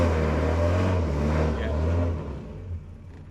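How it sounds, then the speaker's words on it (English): A car engine drones at high revs in fifth gear with a slipping clutch, a low steady roar that holds and then gradually fades down. "put it in fifth, give it loads of revs"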